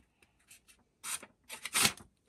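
Small Mikov Stovka 100-NH-7A pocket knife blade slicing through a sheet of paper, a few faint scratchy rasps followed by two louder, longer papery cuts close up, with no talking.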